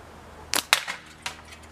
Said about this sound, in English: Hitting the bottom of the can.